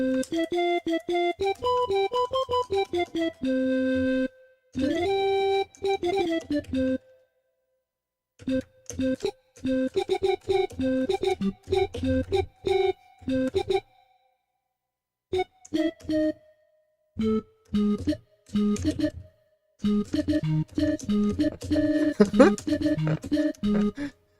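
A synthesized pan flute tone doubled by a pure sine-like hum plays a melodic line in phrases separated by brief silences, steady and fairly loud.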